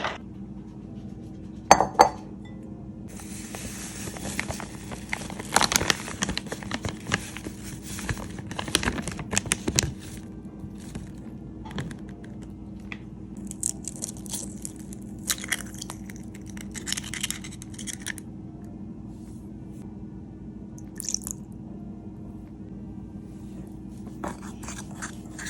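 Ingredients for homemade dog treats stirred in a bowl, with repeated clinks, scrapes and knocks of a utensil against the dish, moderately close and irregular over a quiet background.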